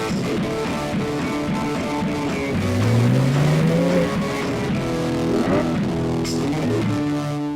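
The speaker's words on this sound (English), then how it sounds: "The 911R on sport mode actually will do the blip for you." A Porsche 911R in sport mode downshifts with an automatic rev-match blip, giving a quick rising engine surge between steady engine drone from inside the car, with no talking.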